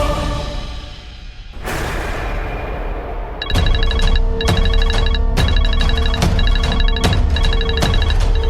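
A telephone rings in a Hindi TV drama scene, a repeated electronic ringtone pulsing in regular bursts after a short stretch of background music and a whoosh, loud and close with no one speaking.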